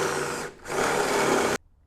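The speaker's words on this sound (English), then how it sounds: "I'm just taking my drill bit and I'm just going to drill this out." A power drill whirs loudly in two bursts, a brief dip between them, then stops abruptly.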